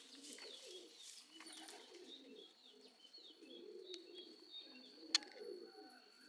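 Old Madrasi pigeons of the pure Lalanka line coo in soft, repeated low phrases, with faint chirps and a sharp tick in the background, fairly near and steady.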